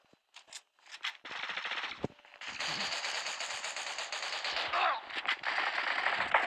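An M4 rifle fires in the mobile shooter game Zula Mobile, with rapid automatic bursts: a few short ones, then longer sustained strings of shots, sharp and close, while someone talks briefly in Turkish.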